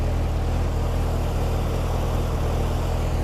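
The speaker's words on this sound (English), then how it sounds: "It sounds like a dump truck because the muffler has a burned hole in it." A C4 Corvette engine idles with a burned-through muffler, giving a steady, deep, rough low rumble that holds constant and close throughout.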